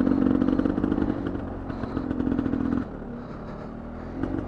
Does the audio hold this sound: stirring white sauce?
no